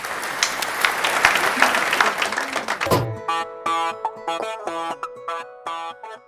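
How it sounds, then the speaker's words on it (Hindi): An audience at a Hindi poetry gathering applauds to welcome a young poet, with a burst of loud clapping that stops abruptly and gives way to tonal music. "तो मैं आपकी तालियों के बीच आवाज देना चाहता हूं"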